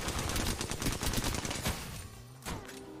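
Rapid gunfire from an R-99 and Wingman in the Apex Legends video game: dense, loud bursts of shots crackling over each other, thinning toward the end with a final sharp report.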